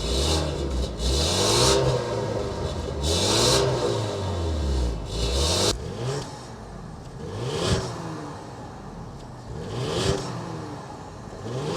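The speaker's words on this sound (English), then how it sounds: "start both of them up so you can hear that exhaust note" 2025 Ford Explorer ST SUV engine revving repeatedly, each throttle blip rising and falling in pitch with a throaty exhaust note, close and loud, several rev bursts in succession.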